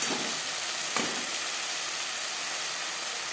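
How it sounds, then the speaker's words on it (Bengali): Steady, close hiss of spices frying in hot oil for a potato and pointed gourd curry, with a couple of soft scrapes of a spoon stirring near the start. "কাঁচা গন্ধ যাওয়া পর্যন্ত নাড়াচাড়া করে নেবে"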